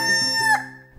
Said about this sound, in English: There is attached to this clock a gaudily plumed cock, which crows every day at sunrise.